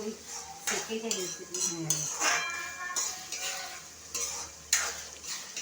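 Capsicum and onion stir-fried for pav bhaji, a continuous sizzle with a spatula scraping and clinking against a pan in irregular strokes, close up, and a voice speaking briefly over it.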